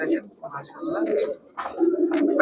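Giribaz pigeons, high-flyer and racer domestic birds, coo in low, throaty rolls that repeat in uneven bursts close by, with a brief pause between calls.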